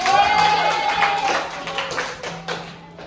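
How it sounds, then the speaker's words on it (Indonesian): Short burst of classroom applause from students after a group presentation, moderately loud patter of hand claps that fades over a few seconds, with a faint tone and voices mixed in. "tepuk tangan untuk"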